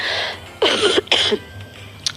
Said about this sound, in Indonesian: Duh, jadi batuk aku.